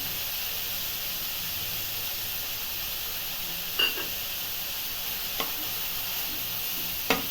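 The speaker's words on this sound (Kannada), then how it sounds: "ಇದೊಂದು ಎರಡು ನಿಮಿಷ ಚೆನ್ನಾಗಿ ಫ್ರೈ ಮಾಡಬೇಕು ಶುಂಠಿ ಬೆಳ್ಳುಳ್ಳಿ ಪೇಸ್ಟ್ ಹಾಕ್ತಾಯಿದ್ದೀನಿ" Ginger garlic paste fries with onions and green chillies in hot oil, a steady close sizzle that holds evenly throughout, broken by a few faint clicks of stirring, with no voices.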